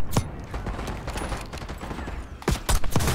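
Gunfire in Call of Duty Black Ops 6 campaign: a close burst of shots opens, a steady rattle of distant fire continues, then several loud shots land near the end.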